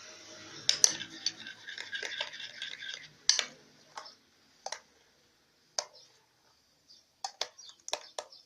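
A spoon scrapes and drags along the sides of a pot while stirring a mirror-glaze dessert mixture, giving close, gritty scraping strokes that thin out into sparse clicks and taps.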